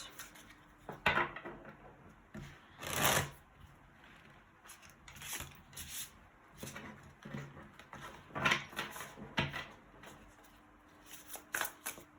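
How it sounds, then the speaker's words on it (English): Tarot cards riffled and shuffled by hand in repeated bursts of flicking and snapping, close and fairly quiet, with soft handling noises between the bursts and no talking. "So let's shuffle the cards."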